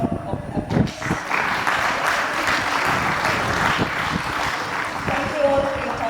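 An audience at the REConnect 2023 welcome session claps for the organizing committee as its members come to the stage, a steady wash of applause with some voices mixed in.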